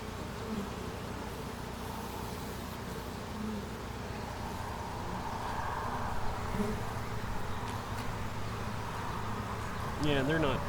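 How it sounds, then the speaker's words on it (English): Honeybees buzz around plastic hive frames in a steady, dense outdoor drone, with faint murmurs of people in the background and a brief louder rustle near the end. "No, that's just bees"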